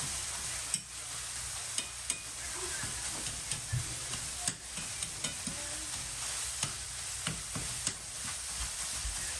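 Meat for homemade samosas sizzles and fries steadily in a pan, a continuous crackling hiss punctuated by sharp ticks and clicks from stirring, heard close with no talk.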